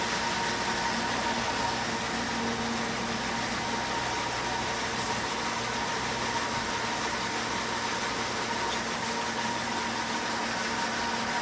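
A commercial dishwasher hums through its rinse cycle, a steady, fairly quiet wash of water noise and motor drone with a faint tonal whine, unchanging from start to end.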